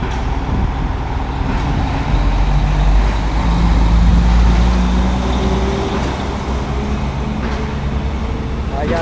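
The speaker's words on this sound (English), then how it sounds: "I'm sure you can hear the noise from these trucks" Container trucks rolling past on a road in a busy port area, a continuous heavy engine rumble and tire roar that swells as they go by, with no talk over it.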